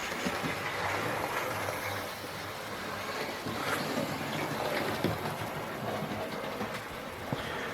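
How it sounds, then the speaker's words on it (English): Hornby West Country Class R2219 Blackmore Vale model steam locomotive running around a layout track, a continuous faint whirring rattle with small clicks as it moves along the rails, close by and steady. "Now Blackmoor Vale is actually running around my track now."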